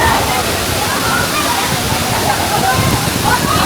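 Clear Himalayan water rushes near a waterfall in Bir, Himachal Pradesh, making a loud, constant roar close by with no break.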